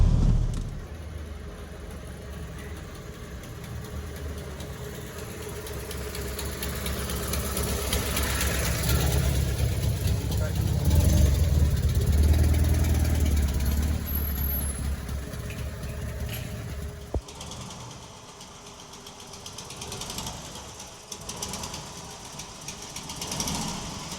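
A restored Panhard car engine idles in a steady low, rough rumble, swelling and easing slightly over time, with a faint voice briefly audible before the level drops late on.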